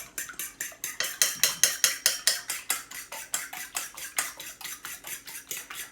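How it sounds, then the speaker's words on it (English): Two eggs beaten in a bowl with a utensil, a quick, regular run of close clicking strokes against the bowl, about three per second, loud and alone. "we're going to beat up 2 eggs"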